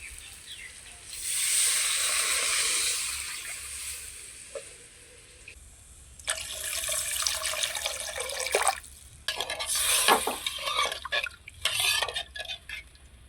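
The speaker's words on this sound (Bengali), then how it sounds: "বাটাটা দিয়ে একটু নাড়াচাড়া করে নিলাম এখন জল দিয়ে দেবো" Water goes into a hot pan of spiced fish curry made with small puti fish, setting off a loud hissing sizzle in uneven bursts, mixed with clattering of utensils against the pan.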